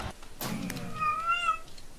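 A cat meows once in a drawn-out, mid-pitched call, fairly close, with faint soft knocks around it.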